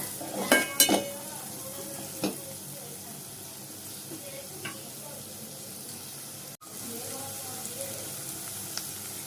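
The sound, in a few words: green chili paste and chili powder frying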